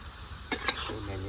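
Dried fish curry sautés in a pan with a close, steady sizzle. A utensil stirs through it with a couple of quick scraping clacks.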